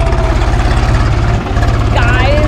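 A tractor engine idles close by on a casuarina tree farm in Andhra Pradesh, a loud, steady low chugging throb with voices talking over it.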